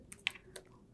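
Typing a command on a computer keyboard, a few soft, quick key taps close by with slight pauses between them, quiet overall with no speech.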